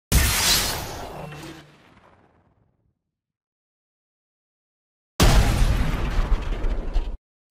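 Missile explosion effects in Unreal Engine 5, a loud booming blast that rumbles and fades out over about two seconds, then silence, then a second sustained blast that cuts off abruptly.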